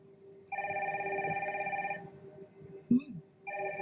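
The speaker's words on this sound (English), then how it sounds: "Mom, phone." A telephone ringing indoors in two steady electronic trills separated by a pause, fairly faint and somewhat distant, with a brief knock in the gap between rings.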